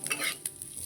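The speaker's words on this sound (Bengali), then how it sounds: "এই জন্য মিষ্টি কুমড়োর বীজটা ভাজবো" Pumpkin seeds frying in a pan, a soft crackling sizzle with quick scraping stirs, one sharper scrape near the middle, all at a fairly quiet level.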